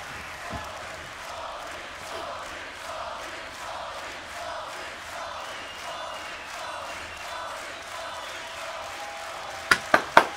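Crowd noise at a beatbox battle, a dense, distant roar of cheering voices swelling in waves, ending with several sharp loud claps or hits close by.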